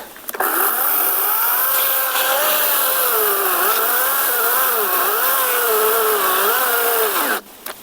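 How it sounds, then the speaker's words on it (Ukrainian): A Start Pro SCS/B-21/16 cordless battery chainsaw cuts through pine, its steady high motor whine rising and dipping under load for about seven seconds before stopping abruptly, loud and close with no talking. "просто піти допиляти на сосні"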